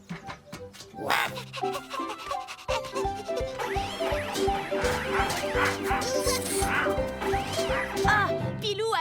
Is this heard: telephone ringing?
no